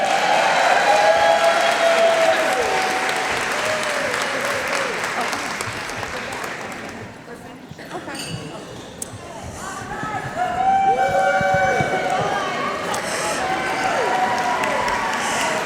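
A large convention audience claps hands in a hall, a dense sustained wash of applause over about fifteen seconds, dipping briefly midway then swelling again, with voices and cheers mixed in under the clapping.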